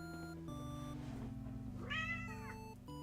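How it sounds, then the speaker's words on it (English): A cat lets out a single clear meow close to the microphone, heard over soft steady background music in a quiet room. "No meowing near the microphone when Mommy's fighting God."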